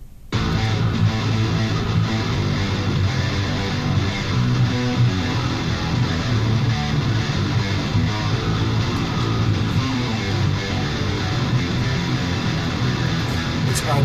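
A low, driving bass line played on an 8-string guitar, with dense, continuous distorted tone filling the full length without pause.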